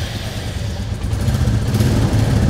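A stealth black Royal Enfield Classic 350 motorcycle engine runs up close, a loud, steady low thumping idle that grows slightly stronger partway through.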